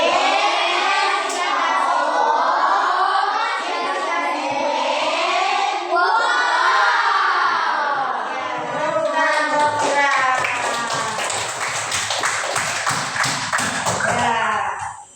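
Children perform the "tepuk wow" clapping chant, voices singing in rising and falling phrases over rhythmic hand claps that grow busier and sharper toward the end before stopping abruptly.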